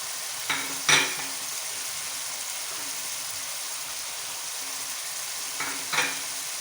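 Egg khagina frying with green chillies and spices, a soft steady sizzle with two brief pairs of utensil scrapes against the pan, quiet and close, no speech.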